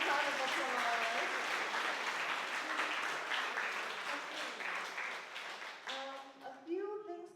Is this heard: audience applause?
yes